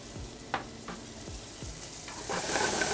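Chopped onion, about an ounce, sizzles in a hot pan for a Florentine omelette, a steady crackling hiss broken by a few scraping stirs, growing louder and denser toward the end.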